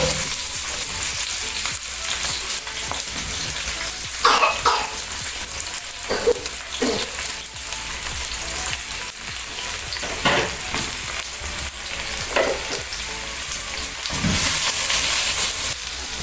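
Chopped bulb onion sizzles steadily in hot cooking oil, a loud continuous frying hiss with occasional stirring scrapes and bursts of spatter, heard alone with no talking.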